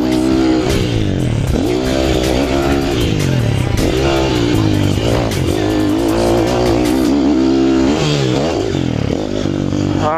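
Motocross motorcycle on a training track with jumps and turns, its engine loud and close, revving up and down in repeated rising and falling sweeps with no talking.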